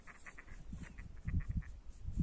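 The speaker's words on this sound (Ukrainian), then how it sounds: "Там десь каченята є, чи ж який звук такий. Крикотять ніби маленький." Small, rapid peeping calls from ducklings by the Sluch River, repeated in quick bursts over a low rumbling background, fairly faint and outdoors.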